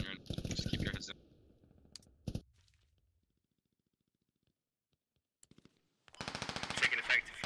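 Close bursts of automatic gunfire rattle at the start, then single sharp shots sound, a quiet gap follows, and another long loud burst of fire comes near the end, in a team shooting game with voices on radio.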